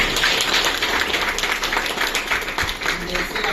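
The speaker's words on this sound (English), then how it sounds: "please clap for our संस्था." Steady, fairly close clapping from an audience at an education council gathering honouring an institution, continuing throughout with a busy, even texture.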